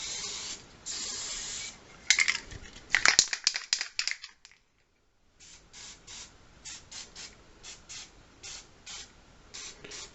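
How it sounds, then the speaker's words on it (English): White spray paint hisses onto a 3D horror sculpture in bursts, first a long spray, then a brief pause, followed by a run of short, rhythmic squirts. "Spray it all in there, all in the holes everywhere."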